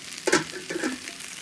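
Fiddleheads sizzle in olive oil in a cast iron frying pan, a soft crackling hiss with two brief bursts as they are stirred, close by and quiet, with no talk.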